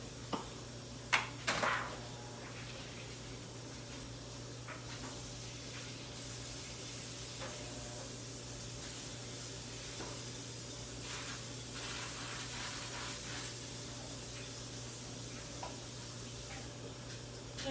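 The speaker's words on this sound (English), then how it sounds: "let me grease the pan first because that's what it says to do" Cooking spray hisses onto a bread pan greased before baking Amish white bread: a couple of short, close spray bursts early on, then a quiet, steady background hiss with faint ticks, and no talking.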